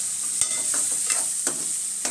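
Spices being stirred into a soya bean sabzi mixture, with a few distinct spoon scrapes against the pan over a constant soft sizzle, close up, with no talking.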